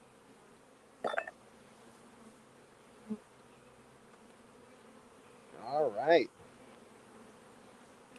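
Honeybees buzz around an opened hive during a hive inspection, a close hum that swells sharply with a few brief near passes and a louder pitch-bending buzz near the end, and a voice speaks briefly.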